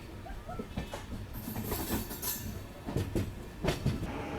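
An Amrit Bharat Express passenger train running out of Katpadi Junction, heard as a continuous low rumble with rhythmic wheel clatter and occasional rattling knocks, steady and moderately faint, with no talking.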